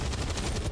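A single loud burst of gunfire in the tactical game XCOM 2, the first shot of a chain shot, dense and close, lasting under a second with no talk.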